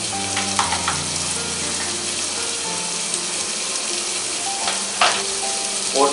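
Chopped medium tomatoes and Kashmiri red chilli powder sizzle in a pan while cooking bottle gourd and chana dal, a loud, close, steady fry with a few sharp bursts and scraping stirs.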